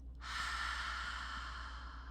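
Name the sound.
qigong breath exhaled through the mouth with haa sound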